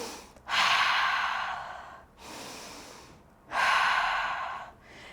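Slow, deep breaths on a Pilates mat, close to the mic: a long airy inhale, a softer exhale, then another full inhale, steady and unhurried with no speech.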